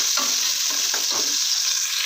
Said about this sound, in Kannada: ಚೂರು ಸಾಸಿವೆ ಹಾಕ್ಬಿಟ್ಟು ಈರುಳ್ಳಿ ಬೆಳ್ಳುಳ್ಳಿ ಫ್ರೈ ಮಾಡ್ಕೊಳ್ಳೋಣ